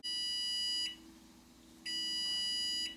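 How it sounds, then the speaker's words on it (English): A kitchen timer buzzer sounds twice, loud and close, in two steady electronic bursts of about a second each with a short pause between, over a low constant hum. "There's the buzzer."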